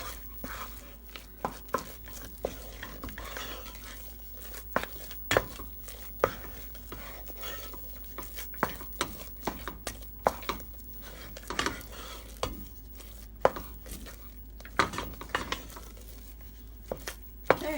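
Churro dough stirred in a pan until it forms a ball, giving a run of close, uneven scraping thuds and soft slaps over a low steady hum, with no talking.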